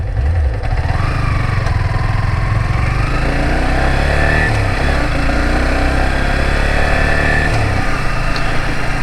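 A Yamaha R15 v3, a 150 cc motorcycle, runs while being ridden, its engine a steady close drone that rises and falls slightly with throttle and shifts, with wind noise underneath.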